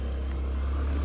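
A motorbike being ridden gives a steady low engine drone with wind rumble, close and continuous through the short stretch, with no voices.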